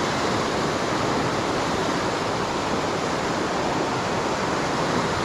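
Fast-flowing river water rushes in a constant, dense roar, loud and steady throughout with no other sounds.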